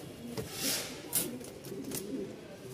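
A black male pigeon with a crest and feathered feet coos at a pigeon market in Mirpur, giving soft low murmuring calls close by over faint background noise.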